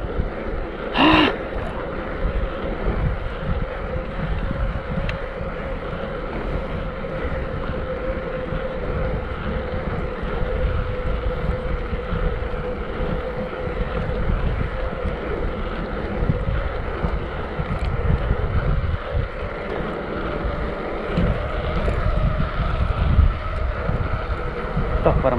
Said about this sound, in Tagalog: Buti na lang may mahangin-hangin.